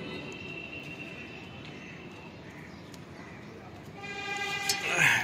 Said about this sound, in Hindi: ओके, ट्रेन ने हॉर्न दे दिया,